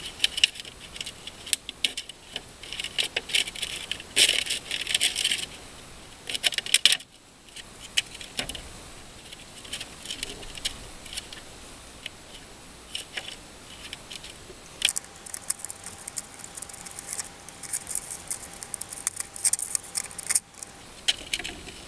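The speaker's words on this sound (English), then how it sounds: "So now I got the plastic cut down." Rough cutting of a plastic sheet for a chick brooder box: irregular crinkling, snipping and scraping bursts at close range, with a brief pause partway through and no talk.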